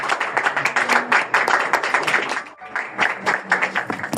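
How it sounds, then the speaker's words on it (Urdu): A church congregation at a Sunday service claps enthusiastically, with distinct rhythmic hand claps close by that dip briefly midway and then resume. "خدا کے کلام کے لیے بھرپور تالیوں کے ساتھ اس کا استقبال کیا جائے۔"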